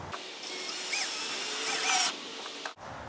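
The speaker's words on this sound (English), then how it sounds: "at this first dimple up here, we insert a screw. It's a decking screw with a washer on it." A power driver sets a decking screw with a washer into a curbside mailbox pole in a short whirring burst of about two seconds, then the sound cuts out.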